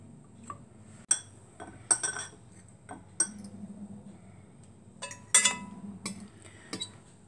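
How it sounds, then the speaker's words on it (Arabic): Plain biscuits, dipped one at a time in milk, are set down in a tray for a no-bake cold biscuit cake, giving light clinks and taps of crockery at uneven intervals, fairly close and quiet, with no talking. "بنجيب البسكوتة بنسقطها كده في اللبن، ننزلها كده في الصينية"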